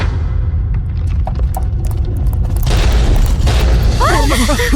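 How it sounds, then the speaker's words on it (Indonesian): A loud boom as a god statue explodes and breaks apart, with heavy low rumble throughout and a burst of debris noise in the second half, with a voice speaking over it. "Ada ledakan. Patungnya pecah."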